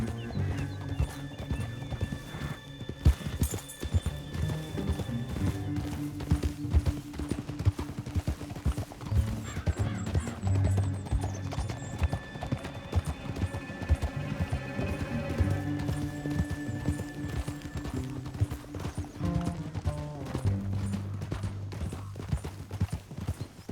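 Horse hooves clip-clop at a steady, rhythmic pace throughout a ride in the video game Red Dead Redemption 2, close and even, with a low music and ambience bed beneath them.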